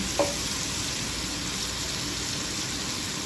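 Meat coated in masala spices fries in a pan for a meat curry, giving a dense, steady hiss that stays loud and close from start to finish, with one small clink near the beginning.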